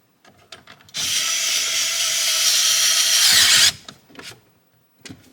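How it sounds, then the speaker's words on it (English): A cordless screwdriver drives screws during an amplifier and subwoofer install in a 2010–2014 Ford Mustang, with one loud, steady motor whir lasting about three seconds. Quieter clicks and handling noises come before and after it. "I kind of just let the cordless screwdriver spin in my hands, things don't get over tightened"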